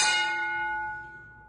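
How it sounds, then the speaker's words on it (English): A single wrestling ring bell struck once in a championship promo, ringing out clearly and then decaying with a long sustained tone. "Ring the bell."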